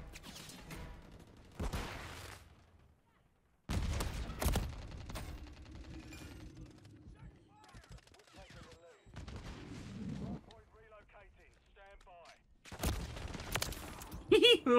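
Rapid bursts of mini Uzi gunfire in Modern Warfare III, loud broadband cracks in several volleys with gaps between them, while a player talks over the game sounds.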